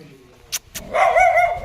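A couple of short sharp dog barks, close by, followed by a sustained whining yelp.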